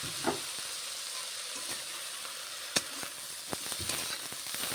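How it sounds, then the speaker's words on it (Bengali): Fish, potato, eggplant and slit green chilies fry together in a pan, a steady crackling sizzle broken by occasional sharp spits and pops, with soft clinks of a utensil. "এবারে দিয়ে দেওয়া হবে বেগুন আর কাঁচা লঙ্কা চিড়ে রাখা ছিল সেটা এবার এটা দিয়ে ভাজতে হবে"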